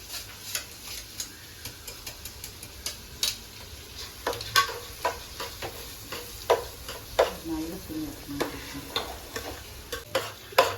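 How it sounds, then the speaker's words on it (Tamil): Soaked, drained lentils (dal) frying in a pan for a vegetable biryani, with a soft sizzle under repeated clicks and scrapes of a spoon stirring against the metal. "அதை கீழே போட்டு ஃப்ரை பண்ணிக்கிறீங்களாமா?"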